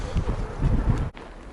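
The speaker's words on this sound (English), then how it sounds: "The wind really picked up there." Strong wind buffets a microphone outdoors in Novosibirsk, Siberia, at minus 42 degrees, a loud low rumbling roar with a brief dip near the end.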